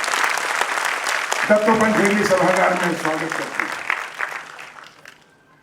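Audience applause in an auditorium for a visiting agriculture minister, a loud sustained clapping burst that swells, then thins and fades, with someone speaking over it.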